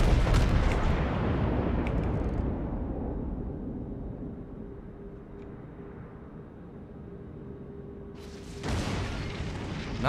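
Heavy naval gunfire from the Iowa battleship's main batteries in World of Warships: a loud broadband boom opens the clip and trails off into a long rumbling decay, then a second heavy blast lands near the end.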